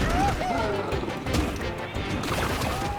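Gold is smashed in the video game Donkey Kong Bananza, a steady run of crunching, whacking hits layered under bright game music and tonal effects.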